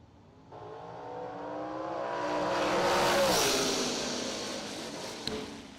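Drag racing dragster launching hard down the strip, a loud engine roar building and sweeping upward in pitch, peaking as it passes and fading away, heard from a distance with crowd ambience.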